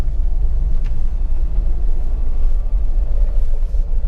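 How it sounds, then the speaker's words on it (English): An LS/LT-swapped Jeep Wrangler with a bumpshifter climbs a steep trail in low gear, its engine a loud, close, steady deep rumble with only slight changes in tone. "So now if I take off, we're going to go from first to second, and then we're going to stop there."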